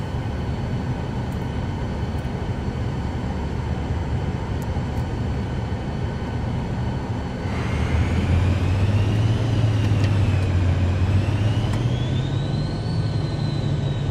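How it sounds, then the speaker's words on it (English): A steady, loud aircraft engine drone while taxiing in a flight simulator, with a rising whine as power increases partway through, rolling continuously without any talk. "I'm going to go over here and taxi and shut her down"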